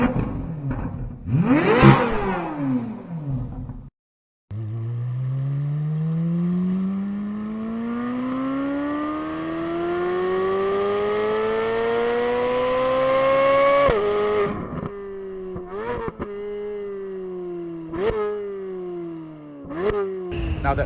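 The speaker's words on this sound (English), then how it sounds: "a very distinctive and rich exhaust note" The 2023 Corvette C8 Z06 V8 exhaust climbs in one long rev to a high-pitched scream, then cuts off. A run of short, sharp throttle blips follows, each rising and falling quickly.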